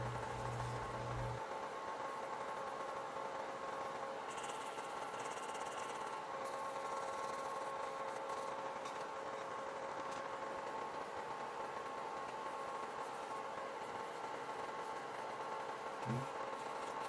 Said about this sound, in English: Now switching over to my sanding bit to smooth out the entire nail